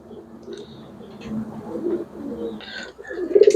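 Pigeons kept in a loft coo in low, throaty rolling calls, several overlapping bursts up close, with faint higher chirps and a brief murmur of a voice.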